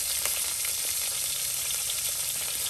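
Ground paste of onion, garlic, cumin and ginger frying in a pan, a steady dense close sizzle with faint scraping stirs throughout, no voices.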